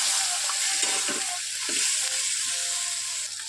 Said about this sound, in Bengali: এবার আমি পেঁয়াজ ঘষাটা দিয়ে দেবো। এবার একটু নাড়াচাড়া দিয়ে মিশিয়ে নিই ভালো করে।